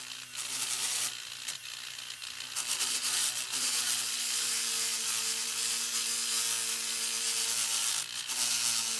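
A carving sander buffer works over a piece of driftwood, a loud continuous whining motor hum with abrasive rubbing and scraping that shifts as it presses into irregular surfaces, brief drops where contact changes.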